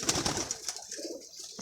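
Pigeons at a loft coo in low, throaty bursts close by, several soft calls layered over faint background chirping.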